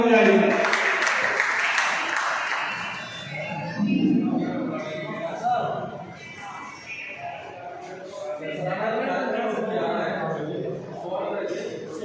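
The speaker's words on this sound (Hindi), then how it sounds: "जोरदार तालियां बजाइए" Audience at a doctors' meeting held by the BJP in Firozabad applauding loudly and steadily, sustained clapping from a large crowd with voices and chatter mixed in throughout.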